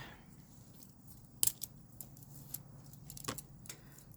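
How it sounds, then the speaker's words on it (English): Sharp scissors snip lace for a grungy craft back cover, a few quiet, crisp cuts spaced irregularly over a soft room hush. "let's get a sharper scissors first."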